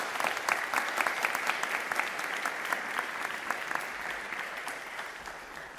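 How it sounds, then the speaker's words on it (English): Audience applause for children at a national birthday celebration, a steady wash of many clapping hands sustained throughout at moderate distance with no talk over it. "another round of applause"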